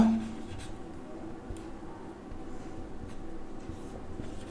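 A pen writes on paper in short scratchy strokes, faint and close, with a low room hum underneath and no talking.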